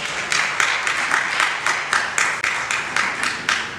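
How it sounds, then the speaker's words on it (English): Applause at an International Overdose Awareness Day event in Ward 6, Washington DC, for Councilman Allen: a crowd clapping steadily for several seconds, moderately loud, with a faint voice underneath. "So please give Councilman Allen one more round of applause"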